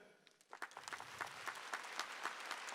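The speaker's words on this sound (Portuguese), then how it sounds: "Eu queria que você aplaudisse a Santa Igreja." A church congregation breaks into applause, scattered claps starting suddenly and building into steady, moderately faint clapping.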